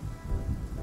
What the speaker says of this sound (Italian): Sì, ma piove da stamattina.